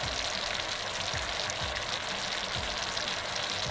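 Steady bubbling sizzle of sugar and water cooking into caramel in a pan, a dense hiss with faint low pops, continuous and close.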